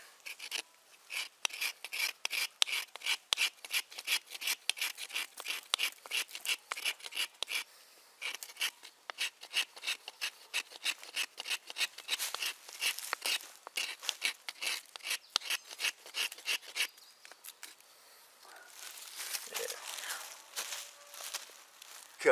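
An Opinel No. 9 folding knife carves wood shavings from a board, making a dense series of short rasping scrapes in steady rhythm, close by, with a brief pause midway and softer scraping near the end.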